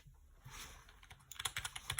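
Rapid clicking keystrokes on a gaming computer keyboard, close and quiet, with a short burst of typing followed by a quicker flurry of taps.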